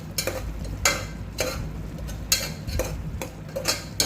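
A spoon stirs chickpea gravy with spices in a pan, giving a steady run of close scraping and clinking strokes with a soft sizzle underneath.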